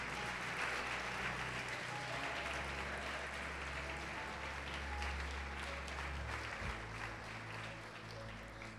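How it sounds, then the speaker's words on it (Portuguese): Church congregation applauding during a Portuguese-language service, a faint, continuous wash of clapping over a low steady hum, distant and evenly sustained. "Pode aplaudir o Senhor e glorificar a Deus."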